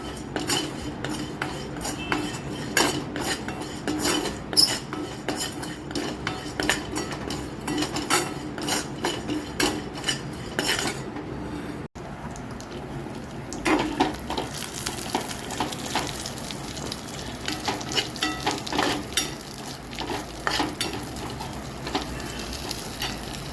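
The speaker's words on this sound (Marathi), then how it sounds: "भोपळा आणि सनफ्लावरच्या बिया आहेत या आपल्याला ड्राय रोस्ट करून घ्यायच्या आहेत" Pumpkin and sunflower seeds dry roasting in a pan, with a steady crackling sizzle and repeated scraping and clinking of a utensil as they are stirred, close and continuous with no talk.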